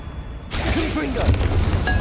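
A Confringo blasting-spell explosion in the Hogwarts Legacy video game bursts in suddenly, a loud, rumbling boom that carries on with a voice speaking over it.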